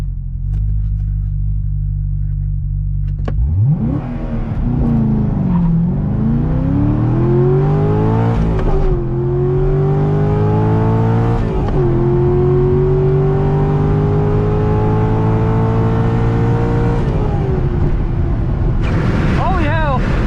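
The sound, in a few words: stock C6 Corvette Z06 launching with launch control at drag strip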